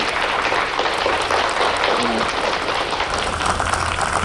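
Applause from an audience at a Republic Day celebration event, a steady, loud wash of many hands clapping that stays even throughout, with a faint voice briefly underneath.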